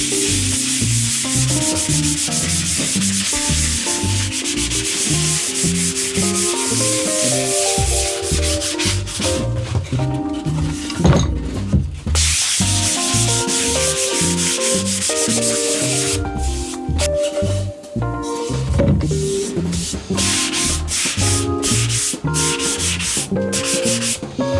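A sanding block is rubbed over a used Telecaster guitar body in continuous, loud, close scraping strokes that carry on without a break.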